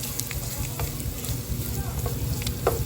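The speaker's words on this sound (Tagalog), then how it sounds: "Ilagay ko na yung bawang. Igigisa ko na siya." Garlic sizzling as it sautés in a hot pan, a dense steady crackle with occasional stirring scrapes, heard close and alone.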